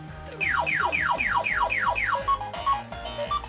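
A Pac-Man lamp plays the arcade game's losing sound: a quick run of about seven descending electronic chirps, then a few short closing blips, clear and close.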